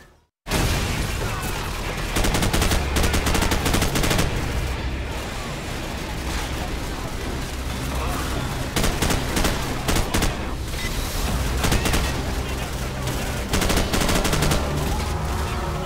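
Dense gunfire and grenade blasts fill a Call of Duty 4: Modern Warfare match. Loud, rapid bursts and heavy booms run continuously from a sudden start, with faint talk under the din.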